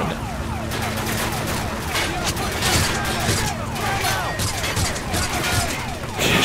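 Pistol and gunfire in the video game Call of Duty: Modern Warfare 3, a dense stretch of shots and combat noise with sirens wailing in the background and a voice speaking over it.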